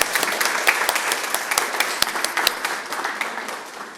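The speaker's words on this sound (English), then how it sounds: "Let's clap." An audience claps at the 2024 Newport News Neighborhood Leadership Institute graduation ceremony, a lively burst of dense, uneven hand claps that gently eases off.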